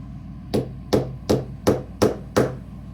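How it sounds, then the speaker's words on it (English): A Drachenader tanto knife takes six moderate spine whacks, sharp, evenly spaced impacts about half a second apart, each ringing briefly before fading, close and clear with no talk. "All right, a couple of not crazy spine whacks."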